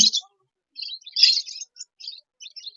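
Lutino pet birds at the Mirpur-1 bird market give short, high chirps in scattered bursts, fairly close and moderately loud, with gaps of quiet between calls.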